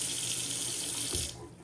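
A bathroom sink tap at a lodge in Volcano, Hawaii runs with strong pressure, a bright steady hiss of flowing water that cuts off abruptly near the end, leaving a faint room tone.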